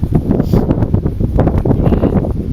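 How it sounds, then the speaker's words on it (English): Strong, cold wind buffets the microphone outdoors in an open field, a steady loud low roar with gusty rustling throughout and no voices. "hopefully you can hear this video with all the wind."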